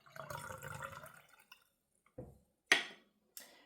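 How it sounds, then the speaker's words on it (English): White vinegar trickles briefly into a mason jar of water for refrigerator dill pickle brine, then come a few soft splashes and clinks of a spoon or jar, quiet and close, with gaps of silence between. "We're going to add 3 tablespoons of white vinegar."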